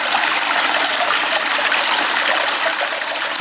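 Water rushes steadily through a sluice box as material is scooped in, a loud, close, broadband hiss of flowing water that holds constant throughout with no speech.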